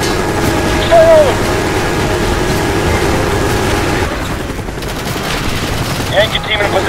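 Machine gun fire in the Call of Duty Black Ops mission Redemption, a dense continuous battle wash with soldiers shouting over it, the firing loud and steady throughout and changing character partway through.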